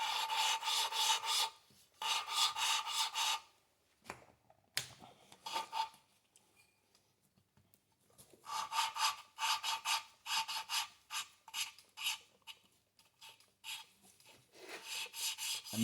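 A Citroën GSA engine valve is lapped against its seat with grinding paste, giving repeated gritty rasping strokes in bursts with brief pauses, close and fairly quiet, with no voices.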